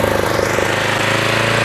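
A small portable generator's engine runs loud and close with a steady, rumbling chug throughout, with no pauses or voices.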